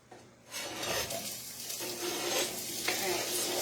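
Vegetables hit hot avocado oil in a pan, a soft start followed by a steady bright sizzle and frying hiss from about half a second on, with light stirring scrapes, no voices.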